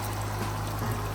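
Blended ginger and garlic paste poured into a pot for Nigerian vegetable soup, a short, steady wet pouring trickle over a low hum.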